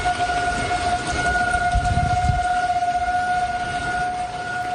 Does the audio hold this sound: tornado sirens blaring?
yes